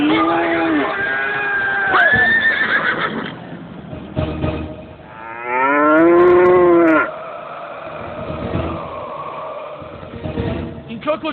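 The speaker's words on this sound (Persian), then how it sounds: "این گاوان و خران دیگر که هستند" Cattle moo loudly, with a long, strained lowing call in the middle and quieter bellows and animal grunts around it. No one speaks.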